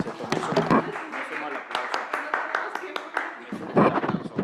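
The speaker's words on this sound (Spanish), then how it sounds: "sumo al aplauso" Applause from the audience at a lecture session on public opinion and political communication, a dense patter of claps running steadily under a speaking voice.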